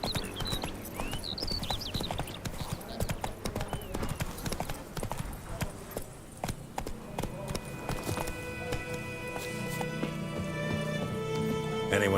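Roach, Geralt's horse in The Witcher 3, gallops with steady rhythmic clip-clop hoofbeats beneath game music and a voice speaking, the hooves fading as tonal music swells near the end.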